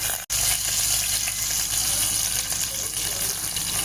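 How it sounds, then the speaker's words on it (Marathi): Cumin and mustard seeds sizzle steadily in hot oil as tempering for sambar, a dense, continuous frying hiss heard up close with a brief break near the start. "इकडे सांबारला फोडणी देऊया."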